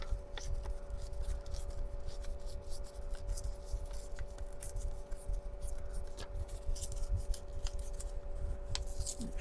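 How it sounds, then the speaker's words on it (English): Scissors snipping along the edges of script paper, a rapid run of close, crisp cutting clicks and rustles over a low steady background hum, with no talking. "Let's just take the edges off of that."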